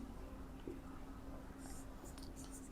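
Pen strokes scratch out a handwritten math solution, quiet and close, with brief bursts of scribbling and some sharp hiss near the end.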